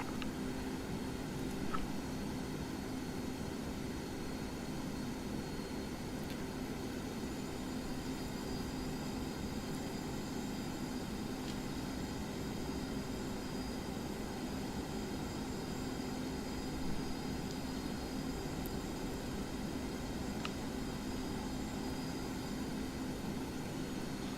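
An F/A-18 Hornet's jet engine in the DCS flight simulator game, a continuous, even cockpit drone with a broad roar and faint whine that holds unchanged throughout.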